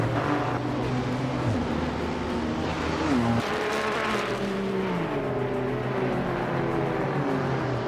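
Racing video game engine noise from a 2015 Ferrari 488 GTE race car, a loud steady roar with shifting engine pitch and gear changes, other cars audible around it, without talk.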